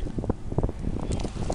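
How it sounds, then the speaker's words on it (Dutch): Gusty wind buffets the microphone in uneven rushes and thumps, loud and close, with no voices. "Ja, het waait wel, kijk maar naar mijn vlaggetjes."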